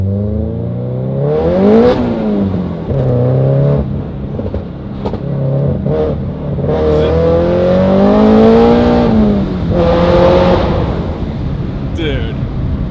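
A Toyota TRD 86 with a badly worn clutch revs hard through a gear on a pull, passing under a tunnel. The engine note climbs and falls in loud, close sweeps, with a brief shift break partway through.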